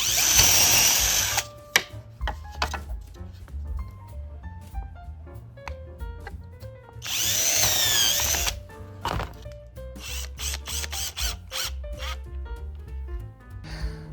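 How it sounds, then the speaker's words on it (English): A power drill runs in two loud, sustained bursts, driving a screw through bamboo for a home tiki bar faux window, with scattered knocks and handling clatter between the runs and no talking. "I'm going to make sure that I drill a hole big enough for this whole screw to go through, and then we'll put it right through there."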